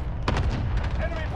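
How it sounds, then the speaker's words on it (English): Booming explosions from a precision airstrike in a multiplayer shooter game, with a sharp blast near the start followed by rolling rumbles and crackling debris. "Enemy precision airstrike. Airstrike."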